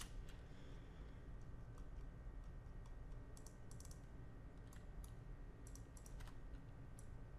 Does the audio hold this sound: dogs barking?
no